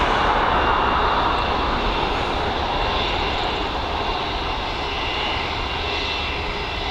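An Emirates airliner landing at Dublin Airport gives a loud, sustained broadband engine roar that fills the whole stretch and eases only slightly toward the end.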